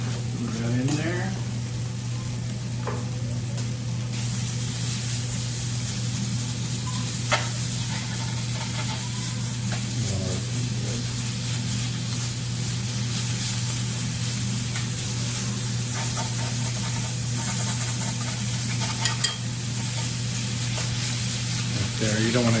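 Beef sizzles and fries steadily in a pan for Philly cheese steak, with scraping stir strokes throughout and a constant loud hiss; a voice talks now and then over the cooking.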